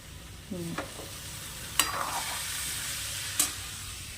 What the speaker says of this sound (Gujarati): કોબીજનું શાક વઘાર્યું છે